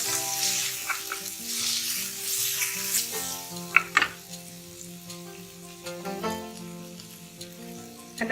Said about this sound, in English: Now we need to add the tomato into this.